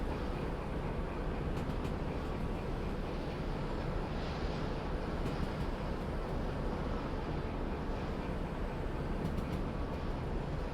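A train rumbles along in the railway game Derail Valley, a steady, heavy broadband roar of wheels and cars that holds at an even level with no voices.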